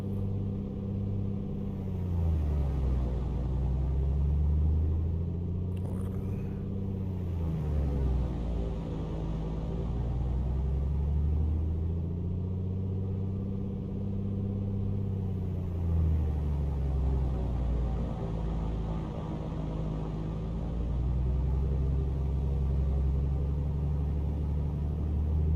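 A2A Comanche 250 piston engine held at 1,800 RPM in Microsoft Flight Simulator, a steady loud droning hum inside the cockpit whose pitch wavers slowly up and down, with no voices.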